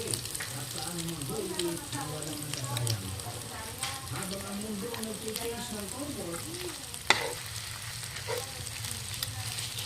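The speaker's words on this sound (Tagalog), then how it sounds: "Gisahing maigi." Food sizzling as it is sautéed in a pan, with a little water added: a continuous bright frying crackle throughout, with a person talking over it and a sharp clack partway through.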